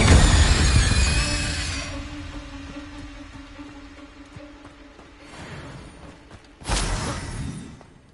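A spell bursts in the Hogwarts Legacy video game with a loud whooshing blast that fades over a couple of seconds, followed by softer magical tones and a second sharp flare near the end.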